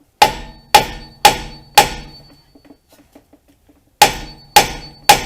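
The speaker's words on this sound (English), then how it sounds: "if you just hit right here with a sledge or what," A mini sledgehammer strikes a steel tie rod end on a 2007 Kia Sportage's front suspension to pop it loose. Four sharp metallic blows come in quick rhythm, a short pause follows, then three more hits, all close and loud.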